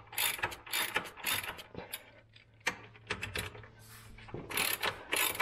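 Bolts being unscrewed with a ratchet from the steering rack stiffener of a 2000 Acura 3.2 TL, close-up repeated bursts of rapid ratcheting clicks separated by brief pauses, with no talking.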